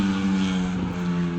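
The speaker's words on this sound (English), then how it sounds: "The motorcycle guys, or the people with the loud exhausts." A vehicle with a loud exhaust, a motorcycle or car, passes nearby, its deep steady engine drone filling the clip at constant loudness.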